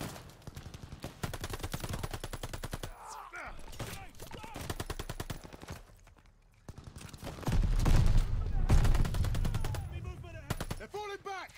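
Dense gunfire rattles through a Call of Duty: Vanguard battle, bursts of rapid automatic shots and heavier blasts, loud and close, with shouted combat voices over the fighting.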